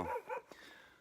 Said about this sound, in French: derrière moi vous pouvez entendre un chien qui aboie